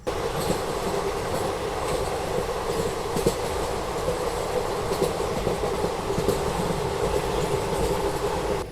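A passenger special train runs on rails from Bhopal toward Pune, heard from inside as a steady, loud rumble with faint wheel clicks and no pauses.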